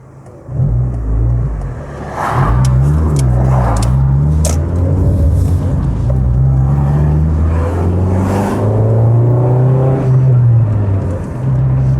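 A Rover 400 Tourer car is driven and its engine note rises and falls through gear changes, a loud, close, smooth hum with rhythmic revving and no talking.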